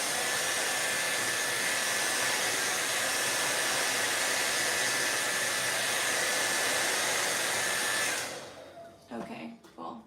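Close, loud hair dryer drying paint, a steady roaring blast of air that runs unbroken for about eight seconds before cutting off, followed by a few soft handling sounds.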